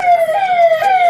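A fire brigade vehicle's siren wails loud and close near busy firecracker shops during Diwali, its tone sweeping steadily in repeating cycles with no talk over it.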